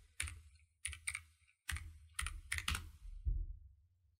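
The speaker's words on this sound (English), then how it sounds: "I'm going to type in Neofetch" A command being typed on a computer keyboard at a Linux terminal: a close, quiet run of separate key clicks in small uneven bursts with brief pauses, no voices.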